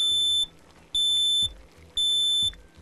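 A smoke alarm sounds three loud, even electronic beeps at regular intervals, each about half a second long, with quiet gaps between them.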